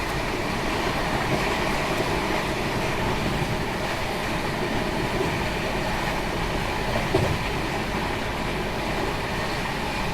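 The Humsafar Express racing along at about 130 km/h, a steady, dense roar of wheels and rushing air from on board, with faint rhythmic clatter and a brief knock near the seven-second mark.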